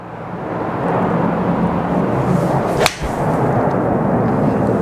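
An aircraft passes overhead outdoors, a loud steady roar with a brief whooshing peak as it goes over, continuous throughout.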